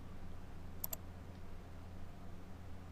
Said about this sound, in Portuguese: Eu vou dando uma série de cliques aqui.